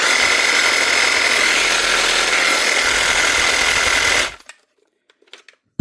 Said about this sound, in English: That is how you repair your Dewalt cordless recipsaw, the DCS367, if your blade holder actually ever comes off the shaft.